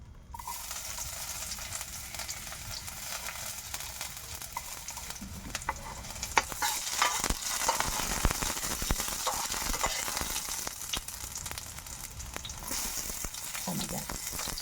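Food sizzles and fries steadily in a hot wok with oyster sauce, a continuous crackling hiss with occasional stirring scrapes, close and fairly quiet with no talking.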